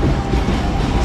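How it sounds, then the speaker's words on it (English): A train bound for Madureira in Rio de Janeiro rumbles steadily nearby, a continuous loud low roar with a little rail clatter. "So this is our train."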